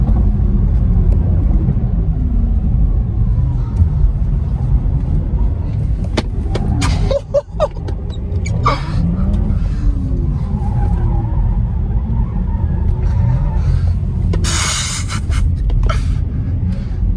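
A Porsche Taycan electric car lapping the Formula E street circuit in London gives a steady, loud in-cabin road rumble with shifting motor whine and tyre noise, interrupted by a few brief sharp knocks and rattles, with occasional faint voices.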